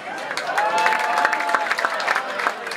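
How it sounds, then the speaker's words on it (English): Audience applauding at a Eurovision concert in London, a steady wash of clapping and some cheering that fills the whole moment, with a held musical tone lingering beneath. "Give a round of applause for yourself."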